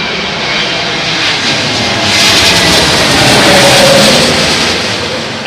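An Airbus A321neo arriving at Heathrow in gusty wind passes close and loud, its engine roar swelling in the middle and then easing slightly, with a broad rushing hiss over a deep rumble.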